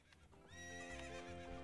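Epona the horse from the video game Ocarina of Time lets out a bright, loud whinny that rises and wavers, with a faint hoof clip-clop ahead of it.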